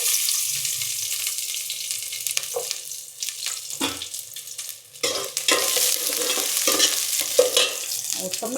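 Small sambar onions frying in sunflower oil for Chettinad chicken, a bright crackling sizzle broken by repeated scraping stirs of a spatula, loud and close, with no speech.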